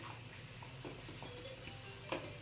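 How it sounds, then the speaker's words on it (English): A spoon stirs moong dal kachori filling mixed with a little wheat flour in a hot pan, with faint, soft scraping and a low sizzle, quiet and close. "I'll keep on stirring this"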